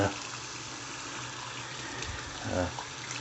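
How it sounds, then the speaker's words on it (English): Hot water runs steadily from a sink tap, a constant rushing hiss lasting the whole stretch with a slight swell near the end. "I'm just going to turn the hot water on here a minute and let that start getting hot"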